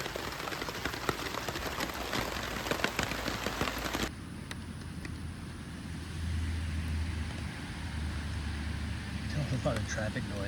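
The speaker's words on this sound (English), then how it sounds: "A lot of traffic noise just up on the road." Steady wash of traffic from a road just uphill of a hostel, heard as a continuous hiss and rumble at moderate distance, broken by a sudden drop in level partway through.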